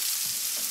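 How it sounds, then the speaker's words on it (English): Floured rabbit pieces frying in hot oil produce a continuous, even hiss, close and moderately loud, with faint low bubbling underneath and no voices. "Fry these gently for a couple of minutes on each side to brown the flour and the meat"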